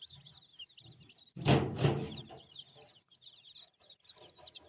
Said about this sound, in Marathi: तर आपल्या फार्म हाऊसवर आलेली आहेत कोंबडीची पिल्लू.